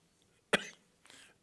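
A speaker at a panel session gives one sharp, close cough, followed a moment later by a softer, shorter throat-clearing sound in an otherwise quiet room.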